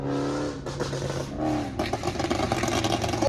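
Chrysler 300 392 Scat Pack with a burble tune revving in city traffic, loud engine roar rising and falling with crackling pops, heard close from inside the car.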